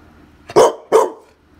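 A dog barking twice at close range, two sharp, loud barks in quick succession against a quiet room.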